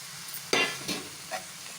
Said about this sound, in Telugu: ఇలా మంచిగా మిక్స్ చేసి ఇప్పుడు మనం ఉడికిన బటాన్లు కూడా ఇందులో వేసేద్దాం